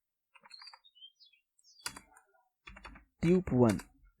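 Typing Python code on a computer keyboard, a run of light clicks, some close and some quieter, mixed with someone speaking.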